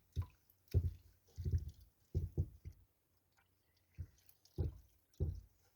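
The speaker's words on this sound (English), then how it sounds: "Just get them all submerged in the water." Soft, wet squelching and squishing sounds come in irregular bursts, quiet and close, as soggy paper is pressed down into water to soak. No one speaks.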